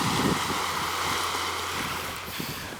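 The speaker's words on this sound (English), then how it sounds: "There's the ocean right there." Steady wash of Atlantic Ocean surf at a beach on an early spring day, a broad continuous roar with wind buffeting the microphone and no speech.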